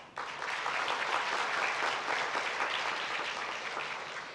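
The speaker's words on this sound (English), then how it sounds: "please give a big and a loud applause to Mr. Nigel Sivanagans" An audience applauds a speaker, Mr. Nigel Sivanagans, after a session on engagement: dense, even clapping starts abruptly and holds steady, then eases slightly toward the end, moderately loud and without talk.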